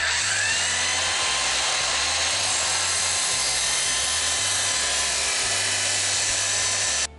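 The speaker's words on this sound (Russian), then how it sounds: "Пилим." A power saw whines loudly and steadily while cutting quartz vinyl laminate flooring laid over a wooden floor, a continuous high grinding buzz that cuts off abruptly at the end.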